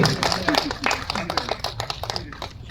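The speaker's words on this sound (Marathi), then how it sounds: "एकदा जोरदार टाळ्या सणांसाठी झाल्या पाहिजे" A crowd applauds at a felicitation ceremony honouring senior journalists, with brisk, dense clapping that is loud at first and then gradually thins out and fades.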